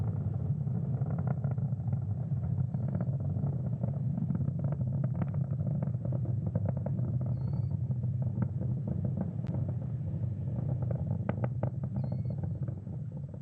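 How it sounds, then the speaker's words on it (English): SpaceX Falcon 9 rocket engines during ascent on a Starlink Group 5-2 launch, heard as a steady, dense, continuous roar with a heavy low rumble and crackle, unbroken throughout. "Falcon 9 is now traveling faster than the speed of sound."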